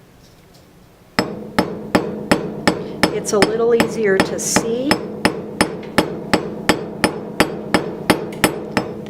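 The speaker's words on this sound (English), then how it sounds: "The hammer strikes with the bordering hammer." A bordering hammer strikes a metal sheet during forming in a steady rhythm of about twenty sharp, ringing blows, close and loud, with a brief spoken remark partway through.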